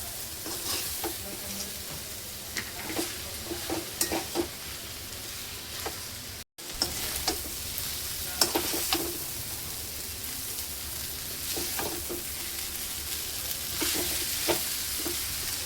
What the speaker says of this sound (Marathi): 5 मिनिटं आपण नूडल्सला फास्ट गॅसवर छान भाजून घ्यायचं आहे भाज्यासोबत